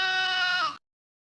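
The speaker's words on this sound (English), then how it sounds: "The sheep." A single sheep bleats once, a clear, nasal, sustained call close by that wavers slightly and stops abruptly, leaving silence.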